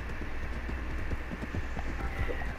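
Hooves of an ordinary horse gallop steadily in the Red Dead Redemption 2 game, a fast rhythmic clip-clop running continuously over a constant low rumble of wind and movement.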